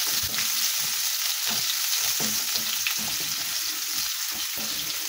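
Onion frying in a pan for Filipino pork menudo, a steady close sizzle with repeated clacks and scrapes of a stirring utensil throughout.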